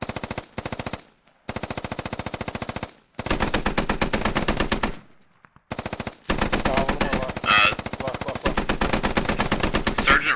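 Machine gun fire in a video game, loud rapid automatic bursts of evenly spaced shots broken by short pauses, with several long sustained volleys close by.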